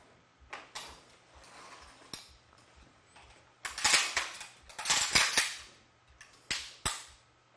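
A C9 machine gun is handled and cocked, giving a series of sharp metallic clacks and rattles, sparse at first and then louder in quick clusters, close up with no talking.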